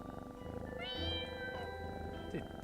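A cat meows in the video game Pocket Mirror, one drawn-out, wavering meow that rises and then fades, heard over a quiet game background with no speech.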